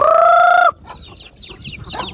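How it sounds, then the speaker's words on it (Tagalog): On a farm, a rooster's long crow is followed by chickens clucking softly in short, scattered bursts close by. "Yung mga manok."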